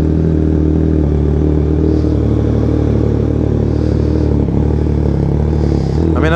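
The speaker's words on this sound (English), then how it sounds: "I don't think it's all that special to hear a bike warm up. It's a little loud, but it ain't all that special." Motorcycle idling after a cold start and warming up, a loud steady low-pitched rumble with clattery mechanical texture throughout, close and continuous, ending with a brief rising scrape.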